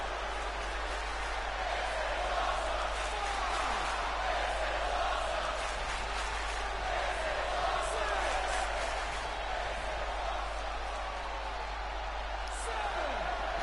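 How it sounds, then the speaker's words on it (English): Wrestling crowd chanting in unison at a live fight night after a table spot, a dense sustained roar of many voices with a low hum underneath, steady and loud throughout. "Crowd chanting, "This is awesome.""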